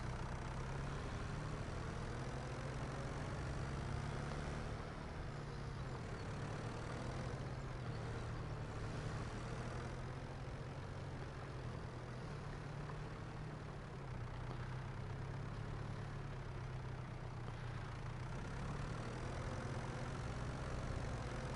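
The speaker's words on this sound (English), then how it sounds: "Actually, the tractor climbs up the hill on here really good." Farming Simulator 25 tractor labouring uphill on Ronîda Island: a continuous heavy low-pitched engine drone, close and even in level, with small shifts in strain and no talking.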